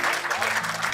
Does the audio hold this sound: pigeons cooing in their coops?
no